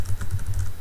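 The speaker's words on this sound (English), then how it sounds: "to get the app running, you need to type Java space dash jar, then the name of the app" Keys clatter on a computer keyboard as a command is typed in, a short run of close, fairly loud keystrokes at an even rhythm with no voices.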